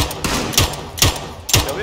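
Bursts of gunfire from PUBG rifles in a vehicle chase crack out in four sharp, evenly spaced shots over under two seconds, loud and close.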